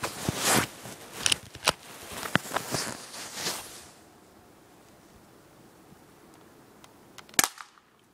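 Golden Spring airsoft Colt M1911A1 pistol firing a quick series of sharp snapping shots, close and loud over the first four seconds, then a quiet stretch before one last crisp shot.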